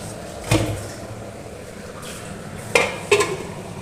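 A lid clanks onto a pan of simmering fish curry, with one metallic knock followed later by two quick clatters over a soft background simmer.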